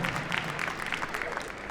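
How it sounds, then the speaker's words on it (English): A crowd of spectators claps for a competitor at a dog agility competition at Crufts, a brief, fairly faint patter of applause lasting under two seconds. "Give him a round of applause."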